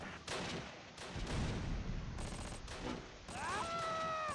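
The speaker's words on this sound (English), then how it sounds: "You're under heavy fire." Gunfire in the World War II strategy video game Close Combat: Last Stand Arnhem, with rapid rattling bursts and scattered shots under constant battlefield noise, ending with a whistling, wavering tone.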